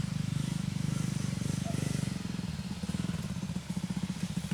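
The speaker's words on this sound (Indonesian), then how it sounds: "udah kedengaran suara motornya" Motorcycle engines arrive on a rural road on the way to a 27-tier waterfall, a steady low rumble with rhythmic pulsing that stays loud and close throughout, with faint voices underneath.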